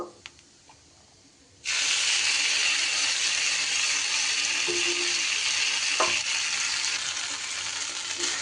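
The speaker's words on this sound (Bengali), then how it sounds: "মশলাটা দিয়েও কিন্তু বেশ কিছু সময় চালটা মশলার সাথে কষিয়ে নিতে হবে" After a quiet moment, a loud steady sizzle erupts as rice fries with spices in hot oil for pulao, with occasional scrapes of stirring over the continuous hiss.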